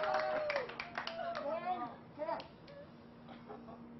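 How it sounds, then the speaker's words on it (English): A family clapping and cheering at the Red Bull Stratos balloon jump, a short burst of claps over overlapping excited voices that fade after a couple of seconds. "Family applauding"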